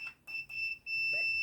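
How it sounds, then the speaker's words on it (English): A multimeter's continuity tester beeps as probes touch a grounded silver casing on a variable inductor on an audio circuit board: short steady electronic beeps in a quick broken run, then one sustained tone, close and clear. "I get a beep if I go from the casing of this"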